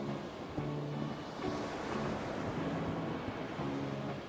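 Ocean waves from Minecraft music wash in a soft, steady surf hiss beneath quiet repeating tonal music notes, fairly faint and continuous throughout.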